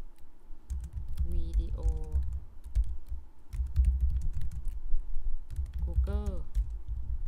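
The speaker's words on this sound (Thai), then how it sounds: "ก็อาจจะพิมพ์ชื่อวิดีโอเข้าไปตรงนี้" A video title typed on a computer keyboard for a Google Form, soft close key clicks in short bursts, with someone speaking Thai over parts of the typing.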